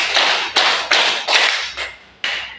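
Six crisp group claps land in a steady beat as a class plays a hand-clapping game before a lesson, each snap close and loud against a constant murmur of room noise.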